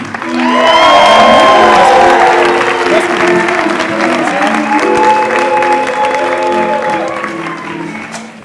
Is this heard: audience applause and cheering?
yes